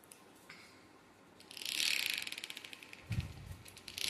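A child's handheld fan is spun close by, giving a rising ratcheting whir of geared clicks that swells and then slows into separate ticks, with no talking.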